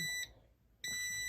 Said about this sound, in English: So the fact that it was closed was why it was beeping